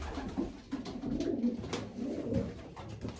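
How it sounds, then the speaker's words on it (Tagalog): Hungry pigeons coo steadily close by behind the listener, low soft throaty calls repeating and overlapping throughout, with occasional faint shuffling and no talking. "Mga gutom na yung kalapati ko sa likod ko."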